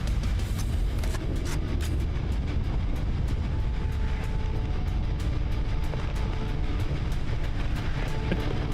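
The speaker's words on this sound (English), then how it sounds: "Train's coming." Train rolling in during the video game Necromunda Hired Gun, a steady rumbling clatter of rail cars with scattered metallic clicks, loud and continuous throughout without speech.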